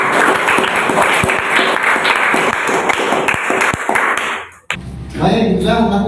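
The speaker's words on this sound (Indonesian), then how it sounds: "Tepuk tangan dulu yuk, tepuk tangan." Classroom applause: a crowd of students claps loudly and close by for about four and a half seconds, then the clapping cuts off abruptly and a voice begins talking.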